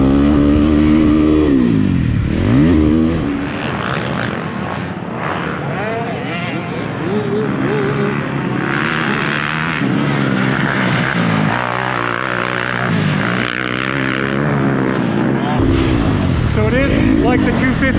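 Husqvarna 366 dirt bike engine running loud and steady while ridden, bogging along at low revs with a rough, throbbing drone as a rider talks over it throughout.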